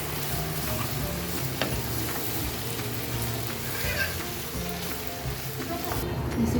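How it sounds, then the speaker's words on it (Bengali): Beef tripe with turmeric, salt and green chillies sizzles in a pan while being stirred, a steady frying hiss broken by occasional scraping knocks. "পরিমাণ মতো লবণ, কয়েকটা কাঁচামরিচ দিয়ে এবার নেড়ে চেড়ে নেব।"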